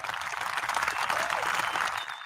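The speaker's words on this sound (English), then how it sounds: "Got to give her a hand clap on that one" Applause from a small audience at a lounge interview, dense hand clapping that holds steady for a couple of seconds and then tapers off, close and fairly loud.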